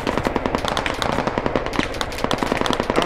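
Rapid automatic gunfire from a first-person shooter game, loud and close, with dense overlapping bursts and cracks that continue without pause.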